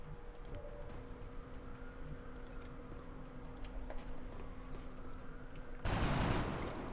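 Gunfire in the strategy game Long War for XCOM, a burst of loud shots arriving near the end after a quiet stretch of low background hum and faint clicks, with no talking.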